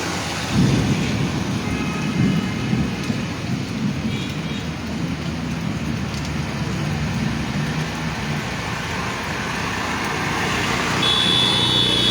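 Heavy rain during a Kalbaishakhi storm roars steadily with a deep rumble of thunder underneath and a faint hum of passing traffic, loud and continuous.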